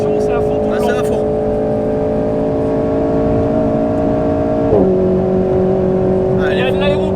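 An Alpine A110 GT4 road car accelerating at full throttle, a loud steady engine drone rising in pitch, dipping at a gear change around the middle before climbing again, with people talking over it.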